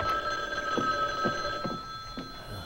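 An old telephone bell rings in a classic 1970s girls' school setting, several short bursts repeating at steady intervals over a steady background hum, with no voices.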